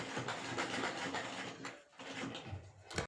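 An embroidery machine stitching in a small shop, a dense steady mechanical whirring and rapid clatter that runs almost continuously, dipping briefly near the end before a short final burst.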